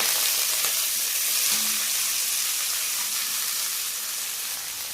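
Fresh leafy greens hit a hot pan and fry with a steady, close sizzle that holds evenly throughout and tapers slightly toward the end.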